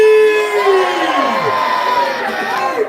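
Crowd at a sushi eating contest whoops and cheers loudly and continuously, high shouts and yells rising and sliding over a dense roar of voices.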